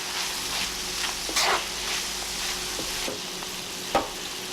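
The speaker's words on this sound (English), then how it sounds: "We'll give it a good mix." A spoon stirs a tomato paste mixture with diced tomato and green onion in a pan over a steady sizzle, with scraping strokes and a sharp clack near the end, close and without talk.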